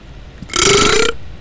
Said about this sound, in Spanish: se han acabado los bostezos y ahora empiezan los eructos